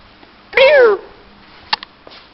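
A single loud, drawn-out cat meow rings out close by in the rain, followed by a couple of faint clicks and a soft rustle.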